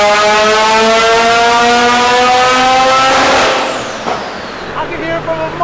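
A turbocharged 13B rotary in a Mazda FD RX7 screams up through the revs, loud and close, with its rising engine note sweeping higher before dropping off into a rougher, sputtering fade.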